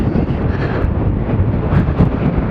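Gusty wind on a windy day outdoors, buffeting the microphone in a steady, loud low rumble that runs unbroken through the whole stretch with no voices.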